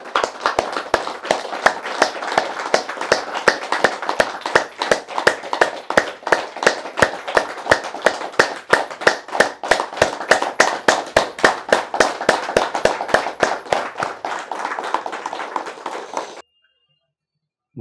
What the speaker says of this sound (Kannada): ಧ್ಯಾನಕ್ಕೆ ಒಂದು ಸಾರಿ ಜೋರಾಗಿ ಚಪ್ಪಾಳೆ